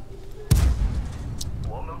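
Tank cannon shot in the World of Tanks video game: one sharp, booming blast lands suddenly and rolls off into a low rumble, with faint game effects after it.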